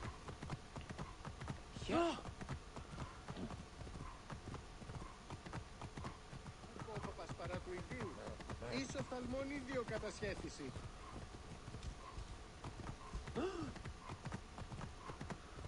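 Horse hoofbeats in the video game Assassin's Creed Origins, a steady clip-clop of a ridden horse beneath a player talking, quiet overall with occasional louder voiced bursts.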